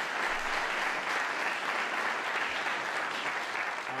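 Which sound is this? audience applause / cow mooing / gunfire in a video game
audience applause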